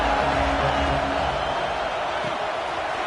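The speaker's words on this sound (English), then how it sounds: "This crowd bringing the energy and noise early." A big stadium crowd cheering and roaring in a steady, dense wash of noise that fills the whole stretch.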